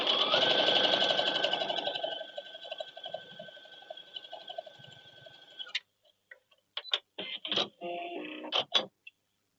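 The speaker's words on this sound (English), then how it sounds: "sew your 1/4 inch seam right down the side" A sewing machine runs a quarter-inch seam down the side of quilt strips for a 3-D doors quilt, a steady close whir for several seconds that then stops, followed by a few scattered handling clicks.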